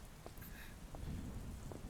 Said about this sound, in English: About an hour walk through this damn rain